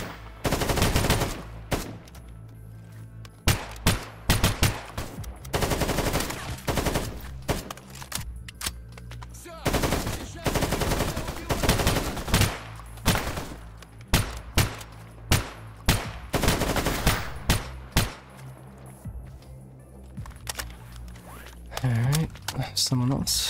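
Gunfire in S.T.A.L.K.E.R. Gamma, with repeated loud bursts and single shots spread across the whole stretch, including rapid automatic volleys, heard under and between talk from a player.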